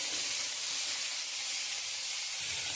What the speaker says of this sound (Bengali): আমি তেজপাতা, শুকনো লঙ্কা আর গোটা জিরে ফোড়ন দিয়ে দেবো।